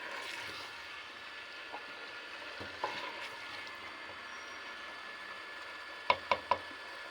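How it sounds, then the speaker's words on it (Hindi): Turnip and meat curry being stirred in a pot, a soft steady sizzle and simmer underneath with a few sharp spoon knocks against the pot near the end. "अब इसको मैं मिक्स कर रही हूँ"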